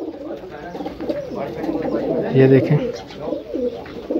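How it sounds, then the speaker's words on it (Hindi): High-breed pigeons in a loft with permanent nests coo softly in the background while someone talks over them close by. "ये देखें आला नस्ल के कबूतर।"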